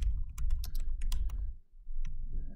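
Typing on a computer keyboard, a quick, fairly quiet run of light key clicks in irregular bursts, heard close and alone.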